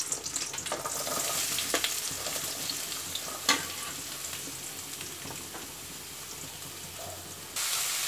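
Chopped onions and garlic fry in hot oil for tomato thokku, a steady close sizzle with occasional stirring scrapes, one sharper clatter midway, and the frying swells louder near the end.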